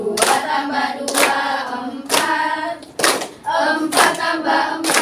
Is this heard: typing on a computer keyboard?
no